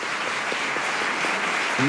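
Audience applause for the comedian Aymeric Lompré after a stand-up show aboard a train, steady moderate clapping throughout with a voice briefly breaking in at the very end.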